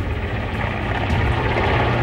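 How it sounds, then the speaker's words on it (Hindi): A helicopter spraying water on a forest fire in the hills of Mount Abu, Rajasthan, gives off a loud, steady rotor and engine drone that holds for the whole stretch. "जंगलों में लगी आग पर काबू पाने के लिए हेलीकॉप्टर के जरिए पानी का छिड़काव किया जा रहा है"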